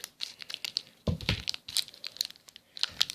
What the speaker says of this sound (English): let me use my handy dandy scissors